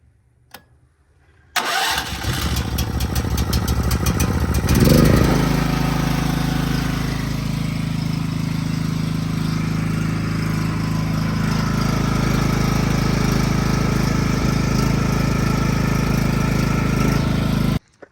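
A newly installed home power generator cranks and starts after a brief click, then settles into a loud, steady engine drone that runs without letup, no voices over it.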